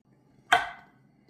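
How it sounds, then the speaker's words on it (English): A single close knife cut through a tomato, one sharp slicing chop against a cutting board that fades quickly, with quiet kitchen hum around it and no talk. "Now we're going to slice the tomatoes."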